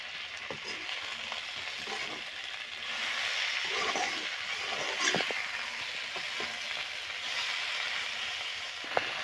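Brinjal (eggplant) pieces fry in a pan with salt for a sour Chhattisgarhi-style brinjal dish, giving a steady close sizzle and crackle with faint stirring scrapes and no talking.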